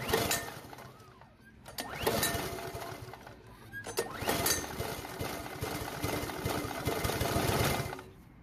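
A small Weedeater mower engine that had not been starting is pulled over a few times with sharp tugs, then sputters and runs with a rough, clattering idle.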